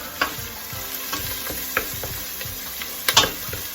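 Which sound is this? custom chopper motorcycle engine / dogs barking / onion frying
onion frying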